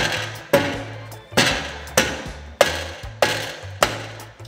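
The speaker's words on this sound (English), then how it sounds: "If it doesn't come because it has some rust on it, just give it a whack all the way around." A hammer whacks a rusted BMW F30 brake rotor six times at a steady rhythm, each blow a loud sharp metallic bang with a short ringing decay, close by and alone.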